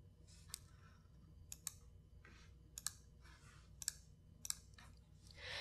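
Sparse, faint keystrokes on a computer keyboard while entering a command at a command prompt: about eight or nine light clicks spread unevenly over a quiet background hum.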